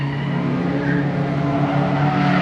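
Race car spinning out during a track day, a loud continuous engine roar with strong low harmonic drone and a broadband tire-scrub hiss sustained throughout, close by and steady.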